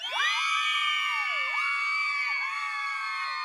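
Many girls in a room break into loud, sustained high-pitched screaming as the power goes out in Halo 3, a dense chorus of shrieks holding steady for several seconds with wavering pitch slides.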